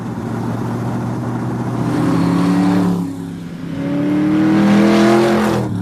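An AC Cobra 427 sports car's engine revs hard and accelerates, a loud throaty roar rising in pitch through gears, dipping briefly around midway before climbing again, close and dominant without speech.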